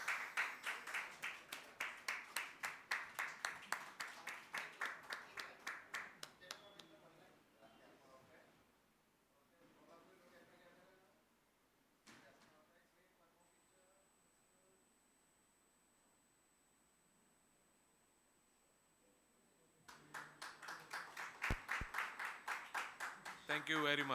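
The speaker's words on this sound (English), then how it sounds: "A huge round of applause, please." An audience at a Japan country seminar applauds a bouquet presentation, with brisk rhythmic clapping at the start, a quiet lull in the middle, then another burst of clapping at the end, all fairly soft.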